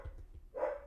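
A house dog gives a single short bark near the end, faint and somewhat distant, following a few low muffled thumps.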